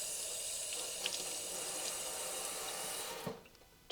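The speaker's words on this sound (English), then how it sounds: "Give it a good rinse." Running tap water pours steadily as hands are rinsed in a sink after scrubbing, a close, continuous splashing hiss that cuts off near the end with a couple of small knocks.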